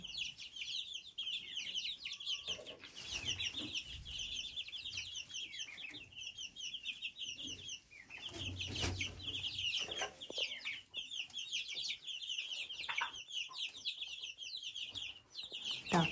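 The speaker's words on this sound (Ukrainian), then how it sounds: "тут сидить несеться курочка" Several hens cluck and chatter quietly in a coop, one sitting to lay, a continuous busy murmur of short calls, with occasional rustling and knocks.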